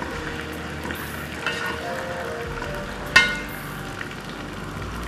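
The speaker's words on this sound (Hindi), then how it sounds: "जैसे ही ऑयल गर्म होगा प्याज का पेस्ट डाल देंगे" Onion paste frying in hot oil in a pot, a continuous crackling sizzle with occasional stirring scrapes and one sharp metallic clink near the end, no speech.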